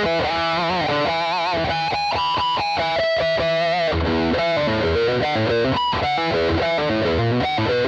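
Heavily overdriven electric guitar through a maxed 808 overdrive stacked into a Zendrive clone, playing chords and riffs, thick and saturated, loud and continuous with no talking.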